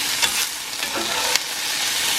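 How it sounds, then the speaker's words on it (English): Food sizzles steadily in a hot cast iron pan while basil is stirred in, a continuous loud frying hiss broken by a few faint scrapes of the utensil. "I'm just going to put in a sprinkle of basil as well. Not much, just a little bit extra. Get that stirred around."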